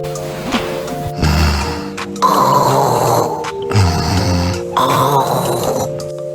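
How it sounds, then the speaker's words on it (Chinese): A man snoring loudly and close by with an uneven rhythm: long rasping, rumbling breaths broken by brief pauses and grunting catches. "老公打鼾，记得帮他听听。"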